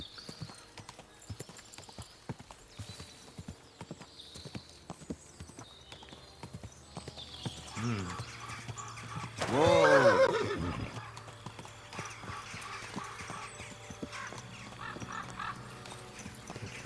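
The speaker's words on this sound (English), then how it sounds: "I think this is a little bit more of like a war horse." Hoofbeats of a war horse in Kingdom Come: Deliverance 2, a steady clip-clop broken by a loud whinny midway, with a man's brief exclamation.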